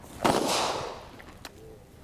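A single sharp gunshot cracks at an outdoor shooting range during a timed drill, followed by a fainter second report about a second later and a fading echo.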